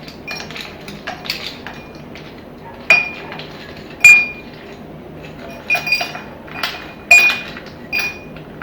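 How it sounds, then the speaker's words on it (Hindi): Ice cubes drop into serving glasses, making a series of bright, close glassy clinks and rattles spaced irregularly over a quiet background. "सबसे पहले हम ग्लासेस में बर्फ डालेंगे।"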